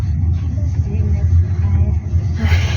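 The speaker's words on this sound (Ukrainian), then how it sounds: "Будемо їхати зараз потрошку виїжджаємо вже з нашого двору" A car pulls out of a residential yard at the start of a long road trip, its low engine rumble steady and close throughout, with a slight lift near the end.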